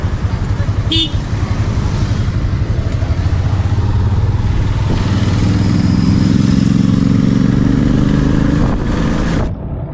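A motorcycle engine drones steadily on a solo road trip from Vizag toward Araku Valley, with a brief horn toot early on and a steady traffic wash around it, close and loud throughout.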